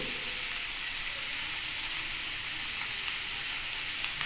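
Turmeric hitting hot oil in a pan gives a loud, steady sizzling hiss that holds evenly throughout, close and without talking.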